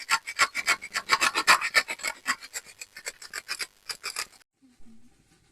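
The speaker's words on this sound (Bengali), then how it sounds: "গ্রেট করার জন্য একটা এটা নিয়েছি আর এর মধ্যে দিয়ে এর মতো করে আমি গ্রেট করে নেবো" Pointed gourd (potol) scraped against a kitchen grater: a quick, steady run of close, dry rasping strokes for about four seconds, then it stops.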